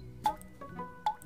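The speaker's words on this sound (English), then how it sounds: "what is that dripping sound?" Three distinct water drips plink one after another indoors from a sink at an uneven pace, close and fairly quiet, with a soft squishy quality and no other sounds.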